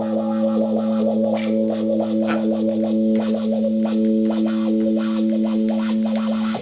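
Distorted electric guitar through a wah pedal rocked back and forth in a sixteenth-note rhythm, sustained chords pulsing with a rapid, regular sweeping tone, loud and continuous with no talking.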